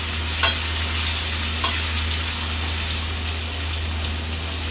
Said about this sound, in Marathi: आता छान टोमॅटो हे ह्याच्यामध्ये परतून घ्यायचे।